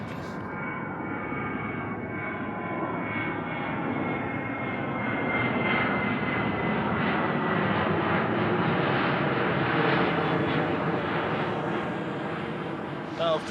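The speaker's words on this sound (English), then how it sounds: "there's a plane taking off just now that I'm going to show you" A US Navy P-8 Poseidon jet takes off from an airport in Akureyri, Iceland, giving a broad, steady engine roar that builds slightly in the middle and holds loudly throughout, with no talk over it.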